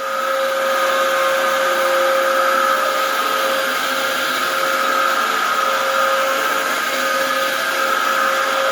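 Dyson DC07 upright vacuum cleaner running continuously on apartment carpet, a steady loud motor whine with a strong tonal hum and airy rush, close and without pauses or talk.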